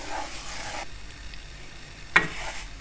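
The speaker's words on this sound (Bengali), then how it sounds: "এভাবে নেড়ে নেড়ে একটা সুন্দর গন্ধ বের হওয়া পর্যন্ত আর মুগ ডালটা একটু হালকা সোনালী হওয়া পর্যন্ত আমি এটাকে ভেজে নিচ্ছি" Mung dal being stirred and fried in a pan makes a soft scraping, rustling sizzle with a few stirring strokes and one sharper clink near the end.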